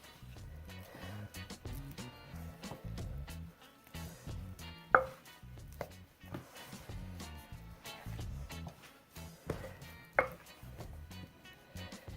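A spoon works wet, sticky scone dough around a bowl, giving a steady run of close, soft scraping and squelching strokes, with two sharper knocks against the bowl standing out along the way.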